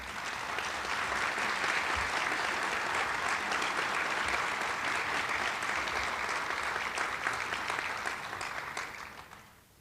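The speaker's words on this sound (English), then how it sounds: "You may now applause." An alumni awards convocation audience gives sustained applause for a reunion class, a thick even roar of clapping that carries on for nearly ten seconds before tapering off at the end.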